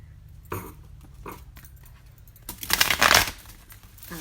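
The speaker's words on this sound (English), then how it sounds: "Two shuffles." Tarot cards shuffled by hand during a reading, giving a couple of brief papery riffles early on and then a louder, dense crisp flutter lasting about a second, close up with no talking.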